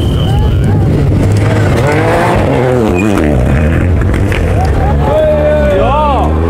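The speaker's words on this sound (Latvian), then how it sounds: "Uzreiz silti paliek, ka šāda mašīna pabrauc garām." A rally car races past at speed in a village rally near Alūksne, its engine roaring loud and close with gear shifts and revving pitch sweeps under the steady din, and people talking.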